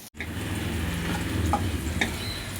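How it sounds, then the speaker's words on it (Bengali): Cashews and raisins frying gently in ghee over a low flame give a steady, soft sizzle with occasional small pops and a light stir, close and continuous. "আমি হালকাভাবে একটু ভেজে নেব"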